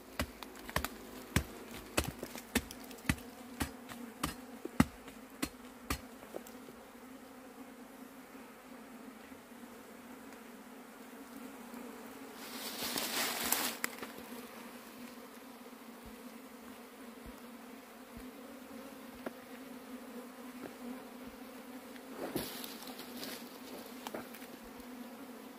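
Honey bees buzz around a hive, a soft continuous drone with many sharp ticks and taps early on and a couple of louder brief swells; no talking.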